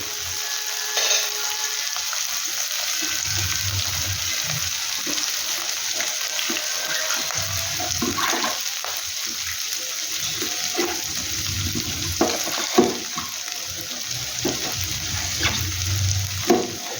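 Garlic and ginger frying in a pan, a steady bright sizzle with occasional stirring scrapes and soft clatter, close and continuous throughout.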